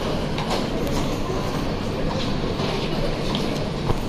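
A Dubai metro train rolls in with a steady, loud rumble and faint rail clatter, filling the station without pause.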